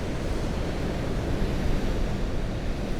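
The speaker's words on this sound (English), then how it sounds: "I love that noise, that real raw power of the waves" Ocean waves break along the rocky Causeway Coast, a steady, loud roar of surf that fills the whole stretch with no gaps and no voices.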